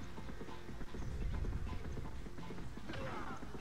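Horse galloping in the Dynasty Warriors 2 video game, a fast, steady run of clip-clop hoofbeats close up over a busy, loud battle din with clashing effects.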